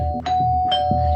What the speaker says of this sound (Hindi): कौन बेवकूफ है जो डोरबेल बजा बजा के नींद खराब कर रहा है सुबह सुबह?